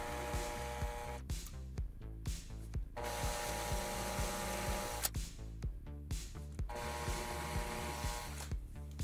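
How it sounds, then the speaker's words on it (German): A small drill bores 3 mm holes into a model railway quay wall for an N-scale layout, short bursts of whirring cutting separated by brief pauses, close up and alone. "dafür muss ich erstmal 3 mm Löcher bohren"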